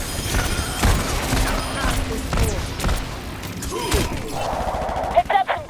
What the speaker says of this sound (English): Heavy guns.